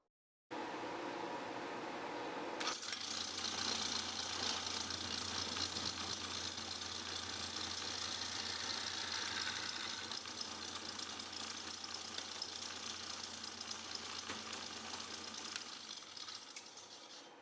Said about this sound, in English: let's go to the drill press now, and we'll drill out the little hole.